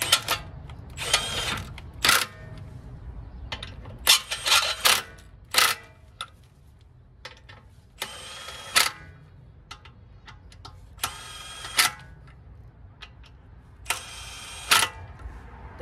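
Wheel lug bolts on a BMW F80 M3 fitted with new HRE Flowform FF04 wheels are run snug with a hand tool, giving sharp intermittent metallic clicks and ratchet bursts at irregular intervals over a quiet background.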